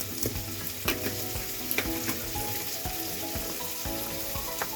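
Turmeric and curry powder stirred into hot oil in a pan for egg biryani, a continuous loud sizzle broken by scraping stirring strokes up close, with no talking.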